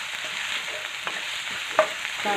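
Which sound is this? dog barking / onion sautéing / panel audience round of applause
onion sautéing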